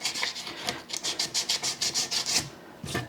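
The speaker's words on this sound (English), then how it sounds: "I'm going to take a little bit of sandpaper and sort of run around the edges here" Sandpaper rubbing around the edges of a routed wooden cavity in a burl-top bass body, a quick series of about a dozen close, rhythmic rasping strokes, then a short pause and one more stroke.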